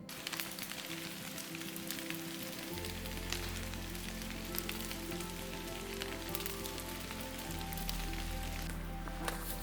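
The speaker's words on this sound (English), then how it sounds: "I am hiking in the rainforest and it's raining." Steady rain falling through a rainforest canopy in Washington, a dense continuous patter close around the listener with a low steady rumble underneath and no voices.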